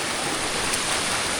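A waterfall on a river in Bohol, heard as a dense, steady rush of falling water that fills the short moment with an even, close roar.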